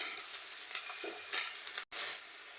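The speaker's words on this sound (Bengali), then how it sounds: "পেঁয়াজ আর কাঁচামরিচ একটু বাদামি কালার হওয়া পর্যন্ত ভেজে নেব" Onions and green chilies fry in a pan for a pasta dish with a quiet, steady sizzle. Faint stirring scrapes run beneath it, and the sound cuts out briefly near the end.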